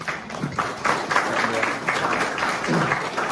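A burst of applause from an audience, dense clapping at moderate loudness that holds steady and then tapers slightly.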